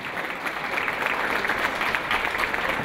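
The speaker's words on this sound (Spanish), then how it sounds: "Un aplauso, Cristina." Audience applause for Cristina King, organizer of the Centro Histórico festival, at a music talk event: dense, steady clapping from a crowd, loud and sustained throughout with no voices over it.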